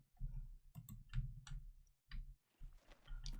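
A computer keyboard clicks during Farming Simulator 19 gameplay, with irregular clusters of sharp close key presses separated by short pauses. The clicks are faint and heard alone.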